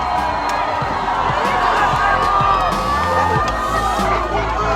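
A dense crowd at a feminist street demonstration shouts, whoops and cheers continuously, with high voices rising over a steady roar of many people close by.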